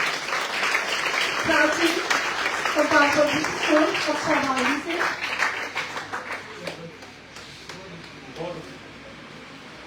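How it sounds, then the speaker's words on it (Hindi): Applause from an audience greets a participant at a school poetry recitation competition, a steady ripple of clapping with an announcer talking over it, fading toward the end. "तो जोरदार तालियों के साथ स्वागत करें"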